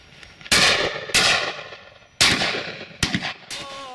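Shotgun shots at partridges on a Dorset shoot, four or five sharp loud reports at uneven intervals, each trailing off in a short echo, with a faint whistle-like call near the end.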